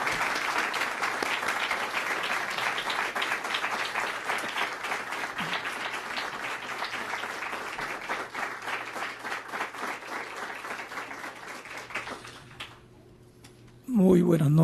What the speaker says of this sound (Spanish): Recibámosle con un caluroso aplauso